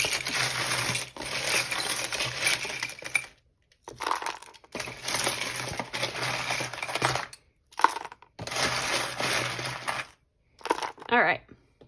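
Dice rolled and rattling in long, loud bursts, several separate rolls of clattering broken by short silences, with a final brief shake at the end.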